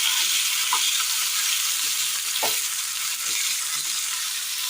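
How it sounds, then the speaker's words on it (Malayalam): Cooked tomatoes pressed down and frying in a pan for a Kerala dish, giving a steady bright sizzle throughout with a few soft scraping presses of a spoon, close and alone. "തക്കാളി ഒന്ന് വെന്ത് കിട്ടിയിട്ടുണ്ട്. ഒന്ന് അമർത്തി കൊടുക്കാം."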